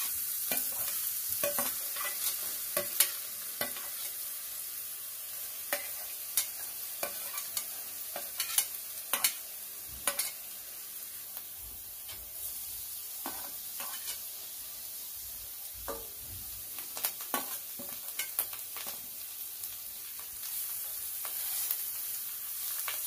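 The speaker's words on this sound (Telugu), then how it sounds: "స్టవ్ వెలిగించి బాండి పెట్టుకొని ఒక స్పూన్ ఆయిల్ వేసుకుందాం." Potato masala for masala dosa frying in a little oil in a kadai, a continuous thin sizzle punctuated by repeated sharp clicks and scrapes of a spoon stirring against the pan.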